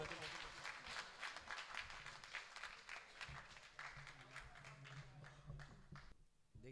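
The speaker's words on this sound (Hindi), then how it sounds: "जोरदार तालियों से इस्तकबाल के मोहतरम आदिल।" An audience at a mushaira poetry gathering in Deoband claps in a dense, lively burst of applause that gradually thins toward the end, with a voice speaking over it.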